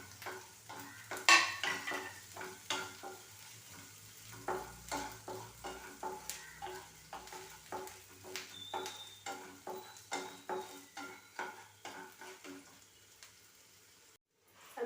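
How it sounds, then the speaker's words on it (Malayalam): Onion, green chilli and ginger fry in a pan toward golden brown, a steady sizzle broken by regular scraping strokes of a spoon stirring through the mix. "ഉള്ളി, പച്ചമുളക്, ഇഞ്ചി ഇത്രയും ഇട്ട് നല്ല ഗോൾഡൻ കളറിൽ വറുക്കുകയാണ്."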